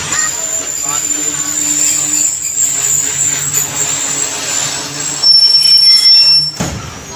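Hazara Express stands at Khanpur railway station as train wheels squeal and rolling stock rumbles nearby, with high metallic screeches drawn out over a loud steady station din.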